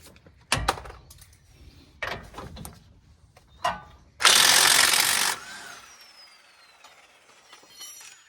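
A 22mm wrench and socket work a long shock eyelet bolt on a lower control arm during an ICON S2 shock install, giving several sharp metallic clanks and ratchet clicks, then a loud few-second grinding burst, close by with no talk.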